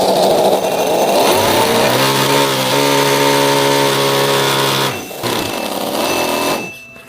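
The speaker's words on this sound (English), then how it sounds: "I'm going to start the V8, hit it with the nitrous, see how it sounds." A mini V8 engine running on nitrous revs hard and loud up close, a buzzing, high-pitched roar that holds steady, dips briefly near the end, then cuts off.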